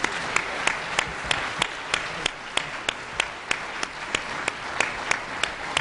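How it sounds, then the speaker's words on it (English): A plenary audience applauds a presidential panel, a steady crowd of clapping with a series of sharper, evenly spaced claps standing out on top. "could we give our panelists a round of applause?"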